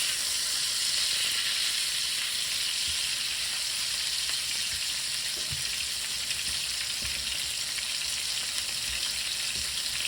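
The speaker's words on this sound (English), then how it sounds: "get a nice sear on there first" Meat searing in a hot pan, a steady loud sizzle and hiss of frying that runs unbroken throughout, with faint low knocks and stirring sounds underneath.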